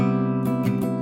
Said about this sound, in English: this is the sound of just the chord being played by itself